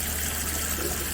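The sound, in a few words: rinsing a stemless wine tumbler with water and dish soap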